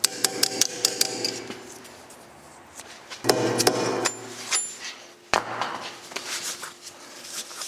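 Sharp metal hammer strikes on brake parts of a Mercedes 380SL, coming in quick irregular bursts with short pauses, close and loud in a quiet garage.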